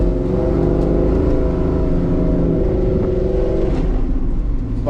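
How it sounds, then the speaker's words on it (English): A lowered, cammed GMC Sierra pickup cruising on an evening drive, its engine droning loudly and continuously from inside the cab with a lumpy, throbbing idle-like rhythm and mild rises in revs, no voices over it. "My truck is driving like a dream."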